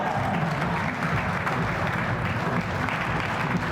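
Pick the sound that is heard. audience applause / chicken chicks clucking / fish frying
audience applause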